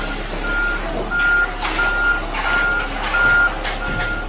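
Outside, a concrete mixer truck sounds a steady run of reversing beeps, six evenly spaced tones over a low engine and faint clatter, heard at a moderate distance.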